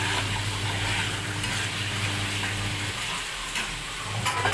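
Eggplant slices frying in hot oil in a pan, a steady close sizzle and hiss with faint crackles, continuous throughout with no voices.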